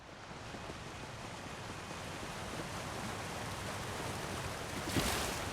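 Waterfall in the backyard of a Skyrim house in Markarth, a steady broadband rushing wash of falling water, quiet and unbroken, with a slight swell near the end.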